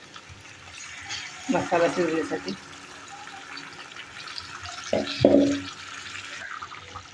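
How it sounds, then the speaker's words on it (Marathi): Water is poured into masala cooking for Kolhapuri mutton, heard as two short splashing, pouring bursts, each a second or so long, under someone talking in a quiet kitchen. "थोडस पाणी घालूया आपण"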